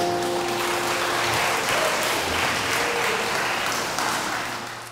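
Guests at a wedding hall ceremony applaud after a congratulatory song, a dense, continuous round of clapping from a crowd that holds steady throughout and starts to fade at the very end.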